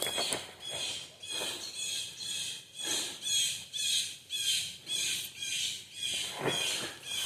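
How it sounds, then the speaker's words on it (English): Blue jays mobbing an owl in woodland: harsh, rapid squawks repeat in a steady pulsing series, moderately distant and fairly faint, with no voices. "The blue jays are going crazy with that owl right down over here."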